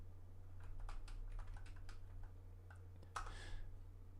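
Rapid typing on a computer keyboard close by, a quick irregular run of light key clicks followed by a brief pause and a louder burst of keystrokes, over a low steady electrical hum with no speech.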